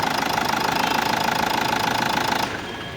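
A 2017 Nissan Terreno diesel engine idles with a rapid, steady knocking clatter up close. The tone drops to a quieter hum near the end.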